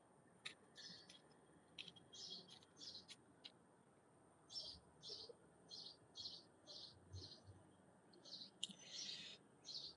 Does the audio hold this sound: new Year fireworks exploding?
no